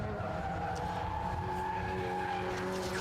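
Haltech K11 Nissan Micra race car at Brands Hatch skidding, with a steady, loud tire and engine roar holding tonal whines throughout, close and continuous without speech.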